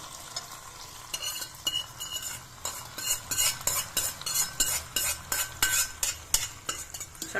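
Ghee-roasted cashews and raisins being stirred into sweet pongal, a spoon scraping the pot in a quick repeated rhythm with soft sizzling, close and fairly loud.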